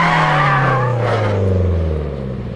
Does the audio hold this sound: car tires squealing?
yes